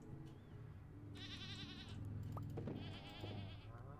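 Goats and sheep in the farming game Stardew Valley let out two short, nasal bleats over a soft looping background tune, quiet and close.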